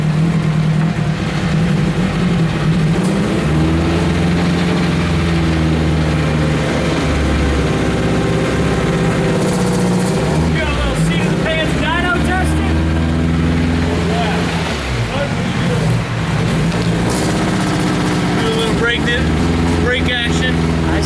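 A project car's engine drones and revs loudly through another hard pull, a deep, rough rumble that rises and falls in pitch, with several quick surges in the second half.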